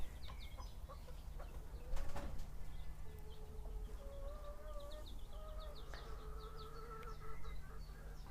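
Broody hens cluck and murmur in low, drawn-out tones nearby, with faint chirping birds and a buzzing insect in the background.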